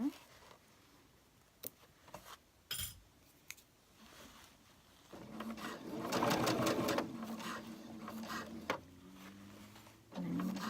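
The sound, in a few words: sewing machine stitching pants, locking in stitches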